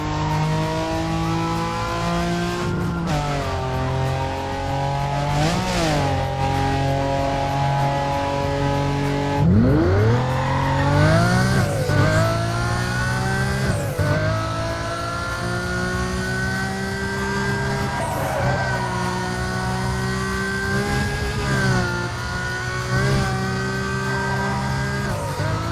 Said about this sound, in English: the Aston Martin DB9 shares the same engine sound as the Lamborghini Gallardo